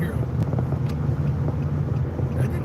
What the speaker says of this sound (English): That didn't sound good. I thought it was a motorcycle. That was a freaking Ford Expedition.